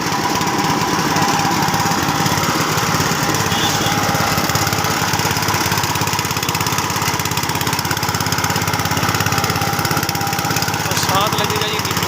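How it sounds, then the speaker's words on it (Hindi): Small engine powering a roadside sugarcane juice machine chugs steadily and loudly at close range, a continuous rattling mower-like drone throughout, with voices talking over it. "इंजन हो गया स्टार्ट।"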